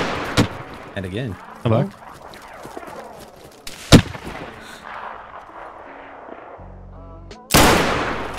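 Rifle shots in the survival game DayZ ring out as several sharp isolated cracks spread across the stretch, one especially loud near the middle and a heavy blast at the end, with someone talking between them.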